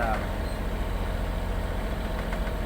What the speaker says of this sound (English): I'm running the engine